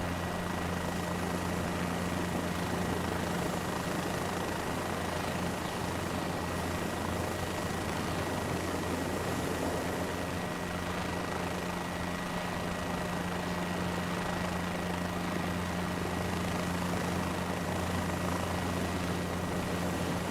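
Helicopter in a flight simulator game, a constant droning rotor and turbine hum that holds steady at moderate level throughout with no talk.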